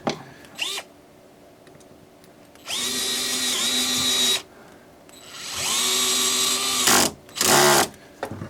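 A cordless drill drives a screw into a kiteboarding control bar in several loud whirring bursts separated by pauses, each burst rising in pitch as the motor spins up, with short clicks between.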